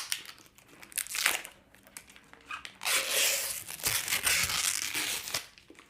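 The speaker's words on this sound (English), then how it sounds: "I gotta get this plastic wrap off." Plastic wrap is peeled off a new robot vacuum, making close, loud crinkling and crackling bursts that come in irregular waves, the longest a sustained rustle near the end.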